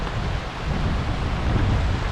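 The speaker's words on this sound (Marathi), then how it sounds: "आता थोडं काय पुढं आलो तर लगेच नवीन मोठा धबधबा दिसला." A large monsoon waterfall at Harishchandragad fort in the Sahyadri hills thunders with a heavy, low rumbling rush, loud and continuous with slight swells, and no one speaks.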